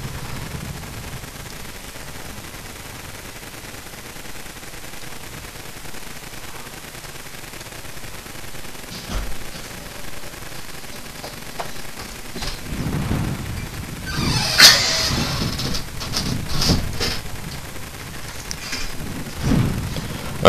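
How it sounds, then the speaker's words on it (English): Armstrong guns fire in a Total War: Shogun 2 battle, with scattered distant booms and crackling volleys building toward the end amid muffled battlefield noise. "Armstrong guns are pounding their front lines."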